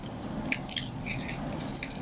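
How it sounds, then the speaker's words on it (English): Crunchy cocoa chip and soil mix is handled up close while a plant is repotted, giving soft, continuous crackling and rustling with a few sharper crunches, without talk. "So this is purely in cocoa chips right now, and there's some soil mix."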